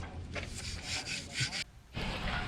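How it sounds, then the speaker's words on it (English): Steady rough rubbing strokes of sanding on a surface, close and fairly loud, in a few back-and-forth passes with a short pause. "really just sanding it to rough it up so that we can spray paint it"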